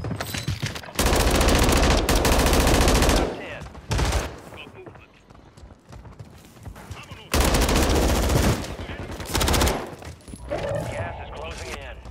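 Loud shotgun and gunfire blasts from a video game gunfight come in dense bursts separated by quieter gaps, with voices talking in between.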